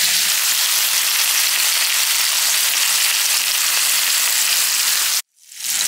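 A ribeye steak with butter sizzles loudly and continuously in a pan, a dense hiss that cuts off abruptly near the end, with no speech.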